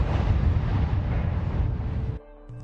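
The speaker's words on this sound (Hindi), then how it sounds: "अचानक एक जोरदार धमाका हुआ।" A loud, deep explosive rumble roars heavily for about two seconds, then cuts off abruptly into a much quieter background.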